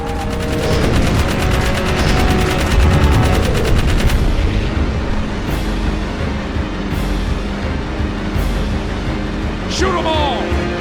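Rapid automatic gunfire from Jak 3 crackles in dense, loud bursts for the first few seconds, then gives way to sparser single shots and a few electronic zaps, with a voice speaking over the action.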